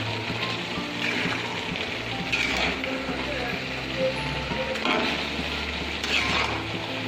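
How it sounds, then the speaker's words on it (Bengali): Softened shredded cabbage stirred in a frying pan, giving a continuous sizzle and wet scraping with a few louder stirring strokes. No talk is heard. "এই যে এবারে নেড়ে দেবো এটা"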